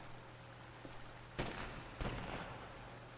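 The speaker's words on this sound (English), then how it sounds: "Sounds of gunfire." Two muffled distant gunshot bursts in a video game, about half a second apart, faint over a low steady hum and background hiss.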